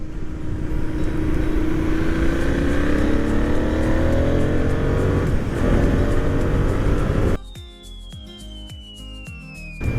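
A Benelli 752 S twin-cylinder motorcycle engine revs hard and loud for several seconds, then cuts off abruptly into a quieter background with a faint high whine.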